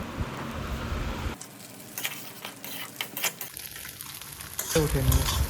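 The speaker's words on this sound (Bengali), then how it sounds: "ডিমে হালকা পরিমাণ লবণ দিয়ে দিলাম, একটু ভালো করে ভেজে নেব।" Eggs frying in a pan for Bengali-style egg chowmein make a close sizzle and crackle with intermittent stirring clatter and brief pops, loudest at the start and end.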